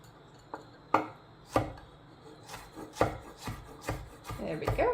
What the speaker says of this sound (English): you always want a sharp knife when chopping tomatoes